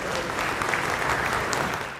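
An audience at a Hindi humorous poetry recital applauds, a full steady burst of many hands clapping that tapers slightly at the end, with no speech over it.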